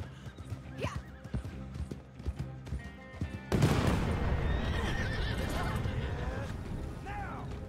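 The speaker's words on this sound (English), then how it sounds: "Your horse has been spooked by a loud noise." A spooked horse whinnies in the video game Red Dead Online, its neigh rising over clip-clopping hooves, then a loud broadband burst of commotion follows with a faint voice beneath.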